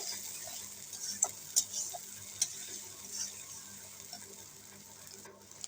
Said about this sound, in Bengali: রসুন সব বাটা একসাথে দিয়ে এখন কিন্তু নাড়াচাড়া করব